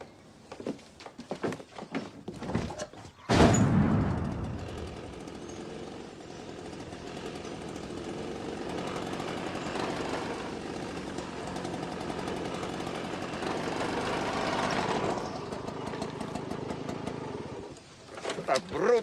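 A motorcycle engine starts abruptly with a loud burst, then runs on in a steady, rattling drone for about fifteen seconds before cutting off, with a few scattered voices and knocks around it.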